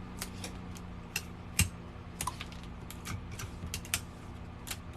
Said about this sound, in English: Next thing we're going to do, tape up our seam here.